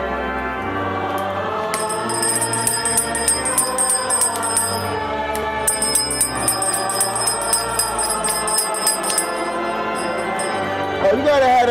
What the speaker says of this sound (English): You got the church bells ringing.